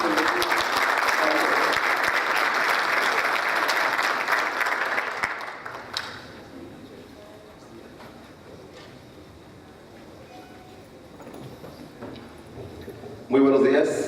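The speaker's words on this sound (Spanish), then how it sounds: "un caluroso aplauso" Crowd applause fills the first several seconds, then fades into quiet room noise before a voice begins speaking near the end.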